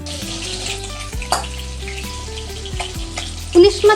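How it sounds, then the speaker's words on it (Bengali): A hilsa fish head sizzles in mustard oil in a wok, a steady close crackle carrying brief spatters and clinks of utensils, with a louder burst of spitting near the end. "দিয়ে দিচ্ছি কড়াইতে সর্ষের তেল, দিয়ে দিচ্ছি ইলিশ মাছের মাথা"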